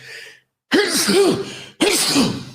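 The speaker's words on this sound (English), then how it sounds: "double sneeze" Two loud sneezes close to the microphone, about a second apart, each a sharp burst with a breathy rasp, following a brief vocal sound and pause.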